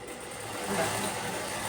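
Sewing machine running steadily while stitching fabric for a princess-style nightgown, a continuous close mechanical whir with no pauses and no talk.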